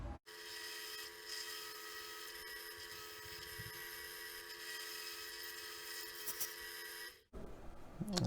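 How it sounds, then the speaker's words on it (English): Drill press fitted with a 1/2 inch bit boring through a brass tuba valve prototype, a steady high-pitched whine running for about seven seconds, then cutting off abruptly. "I've gone and fitted the drill press with like a 1/2 inch bit"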